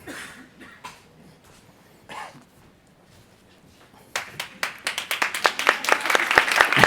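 An audience at an architecture decarbonisation conference gives a few scattered early claps, then breaks into loud, building applause from many hands that fills the room.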